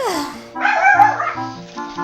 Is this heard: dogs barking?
yes